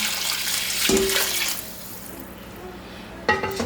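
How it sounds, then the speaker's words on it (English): Hot water pours into a pot of Caribbean chicken foot soup, a splashing, gurgling stream that fills and settles before a brief final pour near the end. "that was hot water I put in there"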